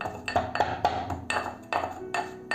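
Roasted whole coriander, black pepper and cumin pounded in a metal mortar and pestle, a series of sharp ringing metallic clinks in an uneven rhythm, close and clear with no talk.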